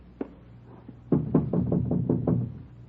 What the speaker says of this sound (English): All right, knock.